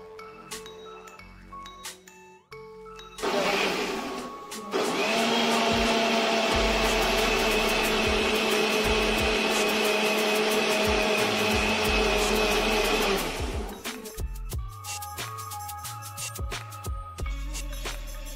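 Blender whirring steadily for about eight seconds as mango is ground into a fine, smooth puree, loud and close, with quieter clattering and handling noise before and after.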